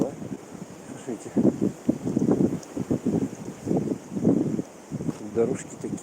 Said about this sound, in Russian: Да, ветрюган.